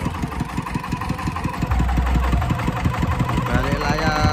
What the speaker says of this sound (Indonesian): Mesin diesel, mesin dompeng, dan poli roda gendeng, tali seleng berputar.